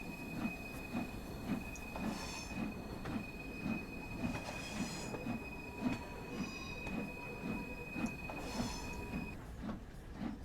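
A heavy train hauled by steam locomotives on the Peak Forest line in Train Sim World 3 labours up a gradient, with a steady rhythmic chuff and rumble, repeated wheel clatter and a sustained high squeal running through most of the passage.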